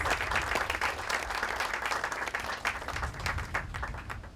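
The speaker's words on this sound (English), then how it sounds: "Let's give another round of applause for Doug Jimmerson and the Civil War comrade" An audience claps for Civil War comrade reenactors at a morning community gathering on preserving Civil War forts, a sustained, even patter of many hands from start to finish.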